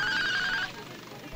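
A new mobile phone rings in a Hindi thriller film, a bright electronic tone trilling steadily for about half a second before cutting off, followed by a quiet room and a faint knock at the end.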